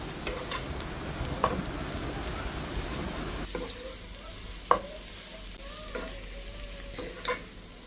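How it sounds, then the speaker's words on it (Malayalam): Sliced onion sautéing in a pan with ginger, garlic and slit green chillies for a chicken curry, giving a steady close sizzle with occasional scraping stir strokes and clicks, no voices. "എന്നിട്ട് ഈ സവാള നന്നായിട്ട് വഴറ്റിയെടുക്കുക"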